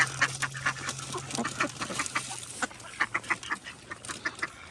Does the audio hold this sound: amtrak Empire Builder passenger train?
no